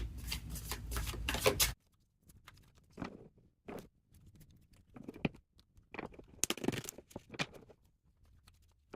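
Tarot cards shuffled up close, first a fast continuous riffle and then a few scattered flicks and soft taps of cards with quiet gaps between them.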